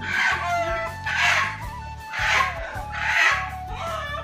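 A chicken clucks and squawks repeatedly in loud bursts while being caught during a chicken-catching competition, close to the listener, with rhythmic agitated calls about every second.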